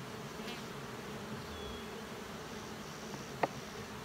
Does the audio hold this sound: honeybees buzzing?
yes